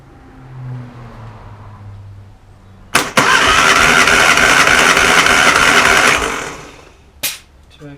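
A 1988 Classic Mini Mayfair engine cranks and fires, runs loud and buzzy for about three seconds, then cuts off, followed by a short clunk.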